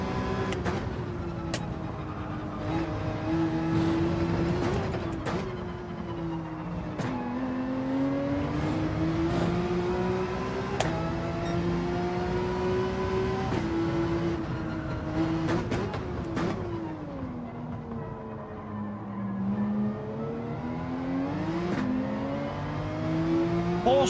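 A Porsche race car in Gran Turismo 7 on a track in changeable wet-to-dry conditions, engine droning loudly and steadily, rising and falling in pitch through repeated gear shifts and revs, with no speech.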